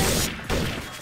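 Loud, dense bursts of gunfire in the video game Garry's Mod (Trouble in Terrorist Town mode), in quick succession, a continuous booming volley filling the clip.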